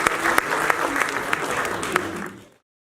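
An audience at a literary gathering in London applauds, a dense wash of many hands clapping with a few sharper claps standing out before the sound cuts off abruptly.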